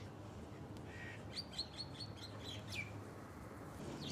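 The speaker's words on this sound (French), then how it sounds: "il y a toujours les oiseaux qui viennent me dire bonjour aussi." Small birds chirp in short, faint bursts of high twittering calls over a steady low outdoor hum, at sunset with the Dubai skyline in view.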